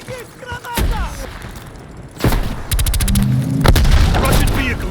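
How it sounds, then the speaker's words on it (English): A grenade blast in Call of Duty: Black Ops Cold War, a sharp loud boom followed by rattling gunfire and battle chatter, with soldiers shouting amid the combat. "Throw a grenade!"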